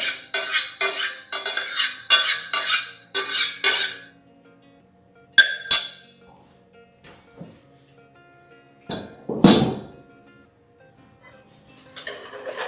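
A whisk clinks quickly against a bowl while beating a vanilla crème brûlée mixture, in a rapid rhythmic burst followed by a few scattered taps and scrapes.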